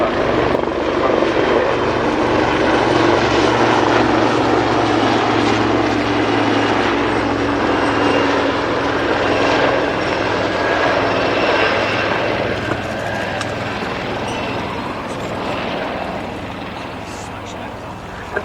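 Wildcat helicopters pass overhead at an air show with a loud, sustained rotor and engine roar that slowly fades, while someone commentator talks over the noise.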